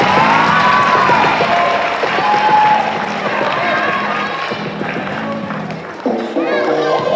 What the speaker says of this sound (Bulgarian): Браво, аплодисменти!